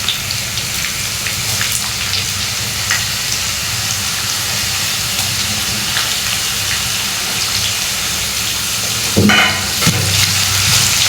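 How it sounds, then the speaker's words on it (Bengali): Potatoes fry at high heat in hot oil for a Bengali shrimp and potato bhaji with bitter gourd, a steady close sizzle with occasional stirring scrapes and a louder burst near the end. "এবার এই তেলের মধ্যে আমি আলুগুলো আবার হাই হিটে ভেজে নেব।"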